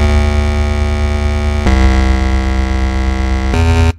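Big room house synth pattern built in FL Studio plays as loud sustained buzzy chords. The chord shifts twice before cutting off abruptly near the end, with no voices.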